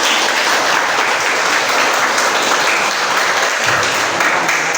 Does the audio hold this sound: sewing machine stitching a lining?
no